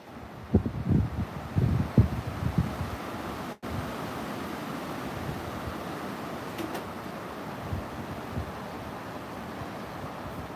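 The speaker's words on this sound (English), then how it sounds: "just the wind how it rustles through the trees" Wind during a hurricane in Fort Myers, rushing steadily through trees as a broad, even roar, with a few gusty bumps and a brief microphone dropout early on, no talking.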